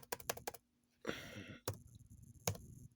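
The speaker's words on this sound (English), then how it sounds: "you see how I'm typing that in?" Close, crisp keystrokes on a computer keyboard come in quick clusters, with a longer rattling burst of typing in the middle and a few isolated taps after.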